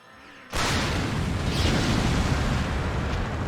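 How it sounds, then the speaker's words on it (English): A heat ray fired from a giant laser rifle, bursting in suddenly after a quiet start as a loud, roaring, sustained blast of broadband noise that holds steady to the end. "He fires a heat ray."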